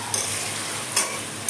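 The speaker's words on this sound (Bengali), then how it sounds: "এই দেখো আমার চিকেনটা প্রায় কষে এসছে, আরেকটু হবে" Chicken frying and being stirred in a pan for biryani, a steady close sizzle with brief scraping strokes of a spoon, no talk.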